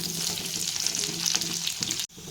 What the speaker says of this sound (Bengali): তো এই দেখছেন উচ্ছে ভাজা হয়ে গেছে।